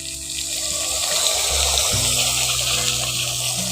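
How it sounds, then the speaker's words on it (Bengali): Water poured over a garlic, chilli and turmeric spice paste in a pan for a prawn biryani, a continuous close splashing gush that lasts throughout, with no talking. "উপরে জল দিয়ে দিচ্ছি"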